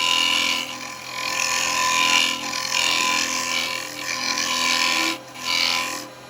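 Wood lathe spinning a lidded box while a negative rake carbide cutter hollows it, giving a steady close hum with hissing cutting bursts that briefly drop out near the end.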